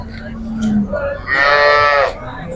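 Holstein Friesian cows at a Sindhanur cattle market give a low moo, then a louder, sustained bellowing moo, close by and loud over a steady background hum.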